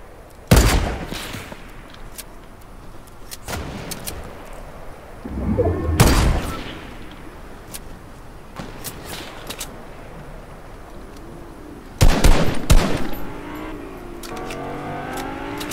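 Sharp, loud broadband gunshot bursts from a video game assault rifle in Fortnite, scattered across the clip with several separate shots and a short volley near the end, over a low game background.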